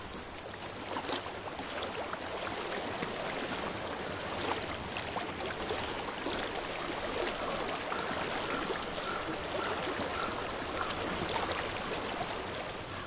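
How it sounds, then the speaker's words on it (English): A flowing stream in Hellblade: Senua's Sacrifice rushes steadily with continuous, moderately quiet babbling water noise that stays even throughout, with no speech. "I hear water."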